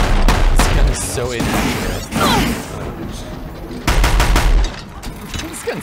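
Gunfire from a gun in the video game Horizon Zero Dawn, loud bursts of shots near the start and again later, with crashing impacts and clattering game effects between them.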